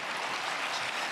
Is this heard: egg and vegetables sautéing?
no